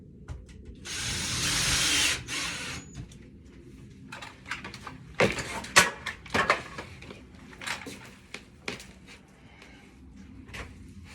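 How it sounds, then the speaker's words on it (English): A screw is driven down with a power drill while a storm door is installed: a two-second whir, then ratcheting clicks and knocks at close range, with no talk. "then you tighten that screw down"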